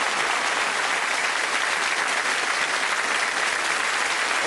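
A studio audience at a game show applauds the six contestants, a dense, even wash of clapping that holds steady and loud throughout.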